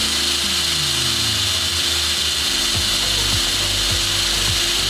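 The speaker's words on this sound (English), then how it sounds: "we're gonna go drill a hole in the deck so that we can run wires through it." A power drill bores a hole through the deck of a small sailboat, the motor whining and dropping in pitch under load, then bumping in short repeated bursts up close.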